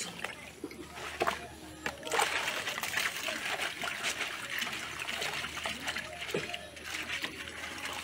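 Water trickles and splashes continuously as something is washed by hand, a close, busy sound of running and sloshing liquid with faint voices now and then.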